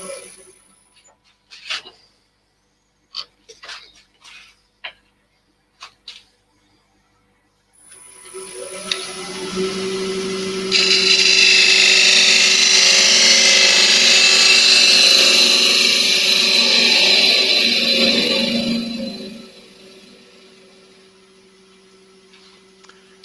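An Axminster wood lathe spins up after a few scattered clicks and knocks, then holds a loud, steady whirring drone with a bright high hiss for several seconds before winding down to a faint hum.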